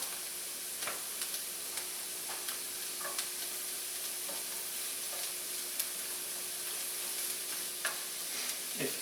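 Fried rice ingredients with carrots fry in a hot buttered pan, giving a steady close sizzle and hiss with scattered clicks and scrapes of stirring; no one speaks.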